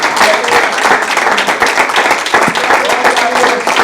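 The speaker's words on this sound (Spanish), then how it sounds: "Fuerte el aplauso al Señor." A church congregation in Missouri claps loudly and continuously in praise during a service, a dense, close rattle of many hands with some voices mixed in.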